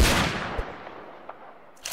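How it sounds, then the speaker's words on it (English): Gunfire in the Roblox shooter Phantom Forces: one loud burst fading out at the start, followed by a few sharp, quieter single shots spaced apart, with another crack at the end. "He shot him twice, but he's still alive."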